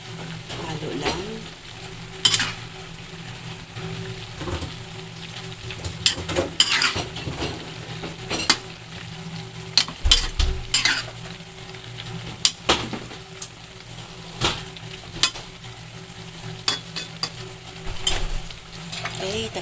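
Eggplant frying in a pan while being stirred, a continuous sizzle broken by repeated scraping and clanking of a utensil against the pan, close and clear.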